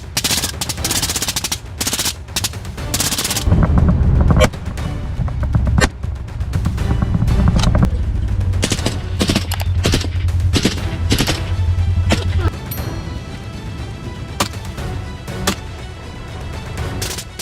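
Rapid bursts of gunfire crack out during a feral hog hunt in a forest, several sharp shots in quick clusters with loud booming stretches between, then scattered single reports trailing off.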